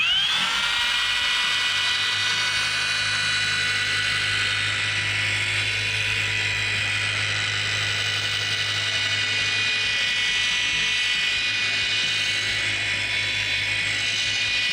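Dual-action polisher spinning a pad loaded with polish over car paint, a continuous high-pitched mechanical whine with a low hum beneath, steady and close for the whole stretch.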